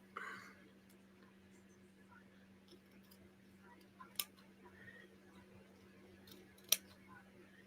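Small scissors trimming material for a miniature dollhouse chair, a few quiet isolated snips over a faint steady hum, the two sharpest cuts standing out in an otherwise hushed room.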